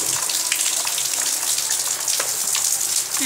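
Rain falls steadily, a dense, even hiss of drops with scattered sharper patters close by, continuous and fairly loud with no voices.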